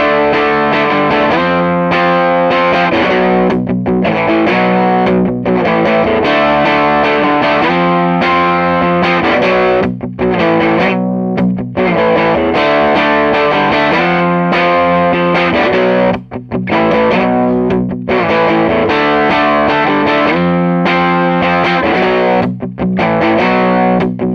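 An overdriven Gibson reverse Firebird electric guitar with Firebird pickups plays continuously, loud and close, with strummed chords and riffing notes and brief pauses between phrases.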